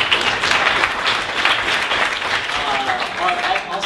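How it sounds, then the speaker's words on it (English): An audience at a live new-technology demo event bursts into loud, sustained applause, a dense wash of clapping that holds steady from start to end. "Give a round of applause."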